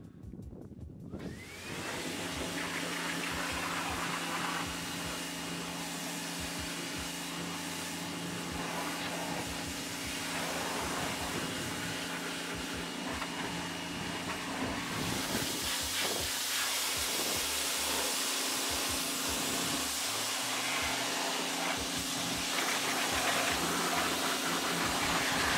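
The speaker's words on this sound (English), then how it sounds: "He does use a pressure washer, probably more efficiently than I do." A pressure washer sprays a car during its first wash in six months, a loud, steady hissing roar that runs without pause throughout, with a low motor hum beneath the spray.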